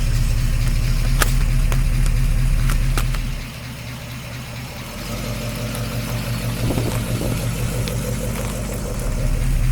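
A 1953 Oldsmobile Rocket Super 88 barn find runs while being driven, its engine giving a loud steady drone with a deep rumble that dips briefly and then builds again, close up with no voices.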